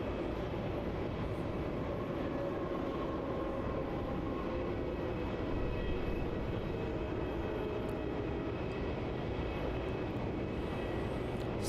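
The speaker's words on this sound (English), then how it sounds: "there is the big triple slowing down there on runway" A Boeing 777 airliner slows on the runway at Melbourne Airport, producing a steady, broad roar of engine and rumble heard from a distance, continuous and unchanging, with no speech.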